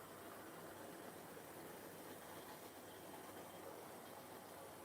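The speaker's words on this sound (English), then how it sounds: "I'm running a Dean Goods and a 101 class tank engine with 3 GWR coaches" A Dean Goods and a 101 class tank engine hauling three GWR coaches in a train game, heard as a soft, steady rolling hiss and rumble, faint and continuous with no talk.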